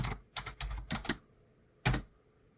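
Typing on a computer keyboard: a quick cluster of key clicks followed by a pause and one louder final keystroke, close and crisp with no talk.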